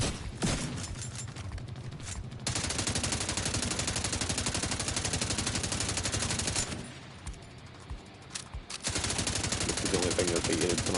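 Sustained automatic gunfire in The Division 2, dense and loud bursts of rapid shots with brief lulls, continuing under occasional talk.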